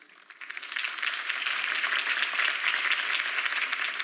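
Crowd applause following a mayoral campaign speech in the video game Batman: The Telltale Series, a dense, steady wash of many hands clapping that swells after a soft start and holds for about four seconds with no talking.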